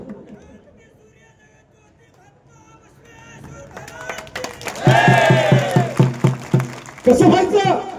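Crowd clapping and cheering during a speech at an outdoor public gathering, swelling from quiet murmur into loud, bursting applause under a shouting voice, with a second surge near the end.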